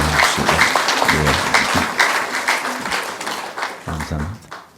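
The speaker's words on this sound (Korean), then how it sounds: "뜨거운 박수로 환영합시다." A church congregation gives a welcoming round of applause during a Sunday service, clapping heard in bursts mixed with a voice talking over it, fairly close and loud.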